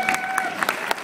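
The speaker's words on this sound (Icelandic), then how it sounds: "Já, klappa fyrir þeir." Brief burst of audience applause at an Icelandic championship celebration for Breiðablik, with scattered sharp claps over a steady wash.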